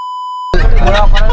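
A single steady electronic beep lasts about half a second, then loud talking starts at once.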